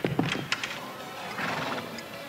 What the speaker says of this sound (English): Hitch the horse up to the caravan